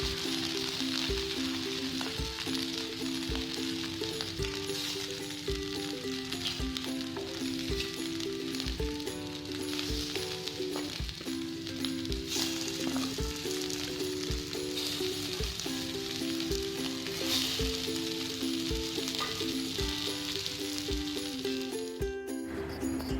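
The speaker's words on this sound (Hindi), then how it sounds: "अब हम इसमें फटाफट से अपनी टिक्कियाँ डालेंगे" Tikkis frying in oil on a hot tawa over low gas, giving a steady, close sizzle throughout with light clattering, while music plays over it.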